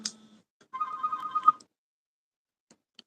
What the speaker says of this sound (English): it's my other phone ringing here